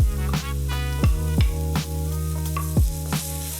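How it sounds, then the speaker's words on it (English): Garlic and onion fry in a pan with bacon and sausage, a steady close sizzle broken by regular scraping stirs, with a low tonal hum underneath and no talking. "Gonna add in the garlic as well."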